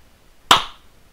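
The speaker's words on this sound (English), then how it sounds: "So now I'm going to clap" One sharp hand clap, close and loud, cracks out in an otherwise quiet room to trigger an Arduino clapper, ringing briefly before fading to near silence.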